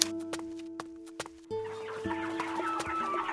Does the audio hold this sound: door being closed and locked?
no